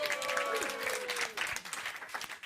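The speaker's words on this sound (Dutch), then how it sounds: "Applaus voor Ruben!" A live audience applauds for Ruben at a community event, a steady, dense clapping spread across the room and lasting throughout.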